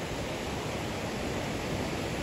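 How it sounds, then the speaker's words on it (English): A river flows beside the North Inlet Trail in Rocky Mountain National Park, a steady, dense rushing wash that holds constant throughout with no voices. "Can you hear the river flowing beside me?"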